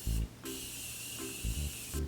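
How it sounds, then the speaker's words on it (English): Morphe face setting spray being misted onto a face in a few short hissing bursts, each separated by soft low thumps from handling the bottle. "you're gonna wanna spray your face with your Morphe spray"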